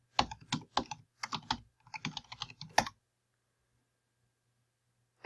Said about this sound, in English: I don't know what's wrong with my typing today.